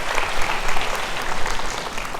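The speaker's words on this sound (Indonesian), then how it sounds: "Kita berikan tepuk tangan buat Bapak." Audience applause for a man who asked a question at a talk, a dense, steady round of clapping filling the whole moment, fairly close and loud.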